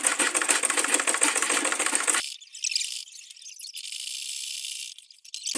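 A sewing machine runs fast and steady, top stitching a leather tote bag, its rapid needle chatter loud and close, then cutting to a thinner, filtered whir with brief pauses toward the end.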